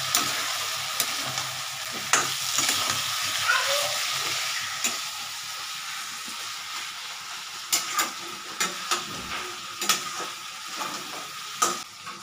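Spice paste frying with potato and pointed gourd in a pan gives a continuous close sizzle, with frequent spatula stirs and scrapes, the clatter growing sharper and more regular toward the end.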